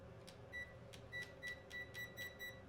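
A convection oven's control panel gives a quick run of short, soft electronic beeps as its timer is set for baking Japanese cheesy rice, over a faint low hum of the running oven.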